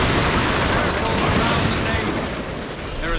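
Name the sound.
ship cannon fire in video game Assassin's Creed Black Flag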